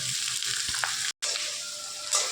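Fried cauliflower goes into a sizzling fish curry gravy with potato and spices, a loud continuous frying hiss with a brief stir and a momentary cutoff midway.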